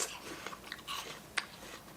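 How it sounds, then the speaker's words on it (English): Someone bites into a crunchy apple and chews, giving a few soft, close crunches and crisp snaps spread over a quiet background. "if I bite the apple, it makes a sound"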